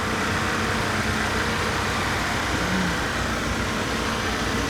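The Slaghammer drag car rolls into the staging lanes at a drag strip with a loud, steady engine drone and broad rumbling noise that barely varies throughout.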